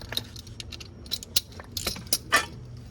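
A ratchet picked up and handled during an oil change on a 2021 Honda Accord 2.0, a series of quiet, close metallic clinks and jangles scattered over a few seconds.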